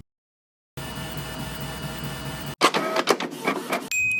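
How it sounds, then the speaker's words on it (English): A 3D printer runs a multicolor filament job, its steady mechanical whir and hum giving way to louder, irregular buzzing bursts of motor movement toward the end. "let me send this file over to the printer"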